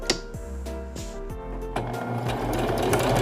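A sewing machine stitches thrifted fabric clamped under the presser foot, its rapid mechanical chatter starting and stopping in short bursts before settling into a steady, louder continuous run close to the microphone.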